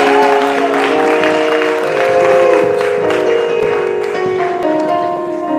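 Audience applause at a church jubilee celebration, a steady wash of clapping sustained throughout, with some crowd murmur and a tonal hum underneath.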